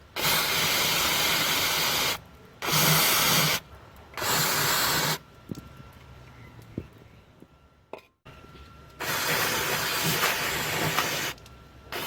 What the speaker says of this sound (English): you could always use this heavy-duty electrical parts degreaser for cleaning those bolts to fit your socket properly